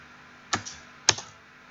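Two distinct keystrokes on a computer keyboard while writing Python code, sharp clicky taps about half a second apart, close and clear in an otherwise quiet room.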